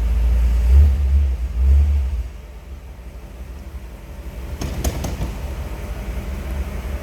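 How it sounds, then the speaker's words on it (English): A 1955 Ford Thunderbird engine catches and settles into a running idle, with a deep rumbling burst early on and then a steady, lower throb with a brief rise near the end, loud and close. "Let's go ahead and fire this up so you can hear it run"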